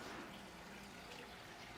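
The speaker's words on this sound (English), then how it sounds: "Flowing water." Faint, steady wash of flowing water in an outdoor open-air bath at a ryokan in Takachiho, Japan, a soft continuous trickle with no distinct splashes.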